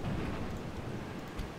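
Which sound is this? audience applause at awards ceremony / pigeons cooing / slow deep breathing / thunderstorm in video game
thunderstorm in video game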